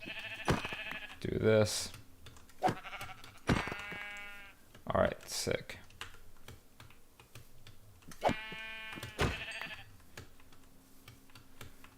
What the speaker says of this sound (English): finally we have some sheep here